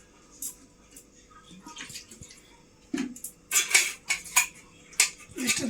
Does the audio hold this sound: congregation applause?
no